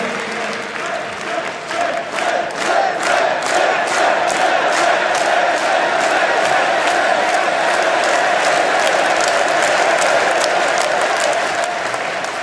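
A large crowd at a political rally in Villepinte claps loudly and steadily, with the clapping falling into a rhythmic beat as cheers and shouted voices rise over the continuous applause.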